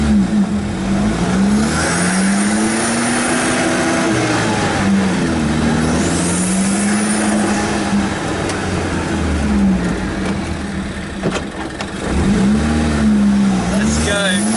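A Zenos E10 S sports car running on a track without ABS, traction control or electronic aids, its engine rising and falling through repeated loud revving sweeps, with a voice talking over it.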